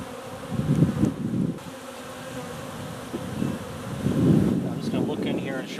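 Honeybees buzzing around an open hive during an inspection, a close, swelling and fading drone of many insects with light wind noise and someone talking quietly over it.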